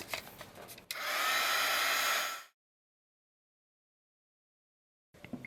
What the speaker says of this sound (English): Let's heat gun it.